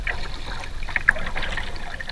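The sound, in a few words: kayak hull scraping over debris in shallow water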